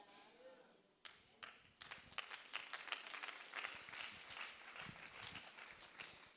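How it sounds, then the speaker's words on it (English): Scattered, sparse applause from a church congregation, light claps building unevenly from a quiet start and continuing at a modest level. "There's not a lot of claps."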